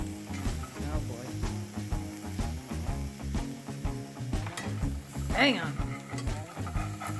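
A Dollar Tree ribeye steak sizzles in a frying pan with a steady crackling hiss under people talking, with a sharp clatter near the end.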